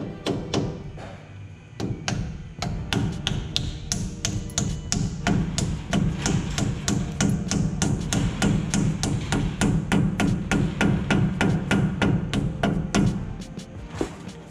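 Steady rapid hammer blows pounding old S-cam bushings out of a truck brake assembly, dozens of sharp metallic strikes in an even rhythm, loud and close with no talking.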